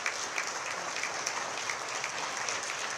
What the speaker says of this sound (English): give our president a big round of applause to thank her for being an outstanding and extraordinary world leader